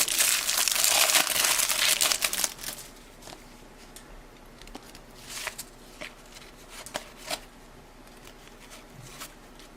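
Crinkly wrapper of a 1992 Babe Ruth baseball card pack tears and crackles loudly and close up for about two seconds, then softer rustling and card handling follow in scattered bursts.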